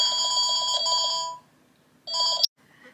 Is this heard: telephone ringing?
yes